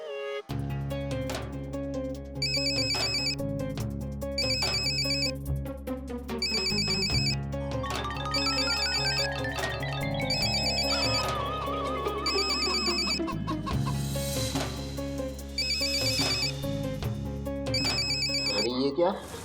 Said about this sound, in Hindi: गोरा लाला का फोन आ गया